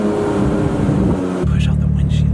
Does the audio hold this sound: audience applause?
no